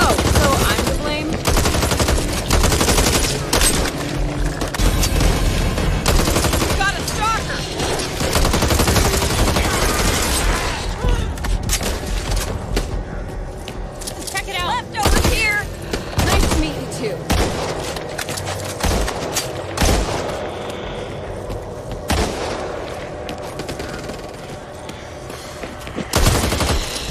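Dense video game gunfire, rapid machine-gun bursts and overlapping shots with occasional booms, loud and nearly nonstop throughout, with voices calling out over the combat.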